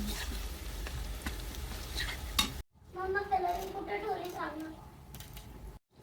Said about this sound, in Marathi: तेलामध्ये थोडं मीठ टाकायचं, मग ना लवकर कांदा परतला जातो